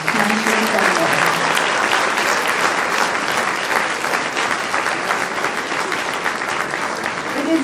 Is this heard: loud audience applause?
yes